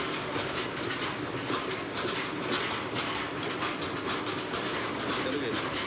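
A train pulls slowly out of a station with a steady rumble, hiss and regular clickety-clack of wheels over rail joints, heard fairly close and continuous.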